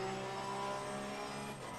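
Porsche Cup race cars leave the pits at Kyalami in Assetto Corsa Competizione. Their engines give off a sustained, buzzing multi-car drone at moderate level that fades slightly toward the end.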